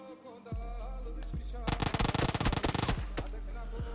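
Gunfire in the mobile battle-royale game PUBG Mobile: a few isolated shots, then a rapid automatic burst of dense cracks lasting over a second, followed by more spaced shots over a steady in-game background hum.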